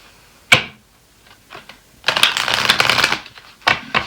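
A deck of Akashic Record oracle cards is shuffled close up, a sharp snap followed by a riffling flurry of card noise and a final few crisp slaps.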